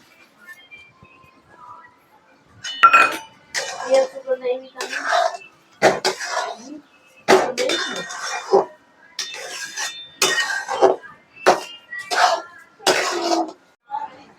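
Semolina sheera being stirred in a pan after sugar goes in, with repeated bursts of spoon scraping and clinking against the pan in an uneven rhythm, close, with quiet pauses between strokes.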